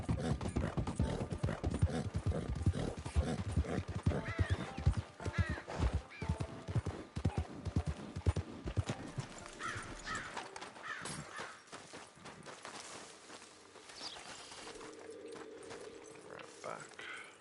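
Horse galloping in Red Dead Online, a rapid rhythmic clip-clop of hooves that is loud and dense at first, then thins out and fades; a voice speaks over parts of it.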